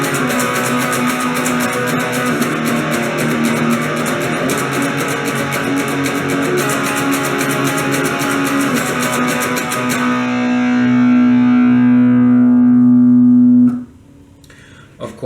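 Distorted electric guitar plays the chorus rhythm part of a song: a loud, dense, steadily chugging riff ending on a sustained ringing chord that cuts off sharply near the end.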